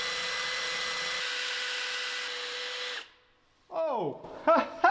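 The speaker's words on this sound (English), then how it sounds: "now I'm gonna try and drill the screw out" A power drill whines steadily as it bores out a stuck screw on a 37-year-old Suzuki Intruder 1400 motorcycle, loud and close for about three seconds, then cuts out before a voice reacts.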